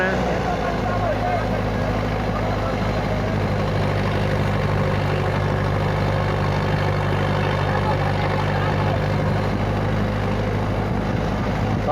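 A tractor engine idles while warming up, giving a steady, loud, low diesel rumble that runs unbroken and even for the whole stretch.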